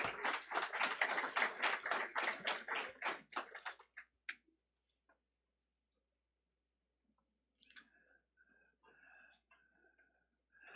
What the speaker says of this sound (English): let's give these three young men a round of applause